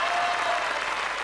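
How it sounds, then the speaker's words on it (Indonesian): A studio audience on a television game show applauds steadily, a dense wash of clapping that holds at an even level throughout the short moment. "tepuk tangan."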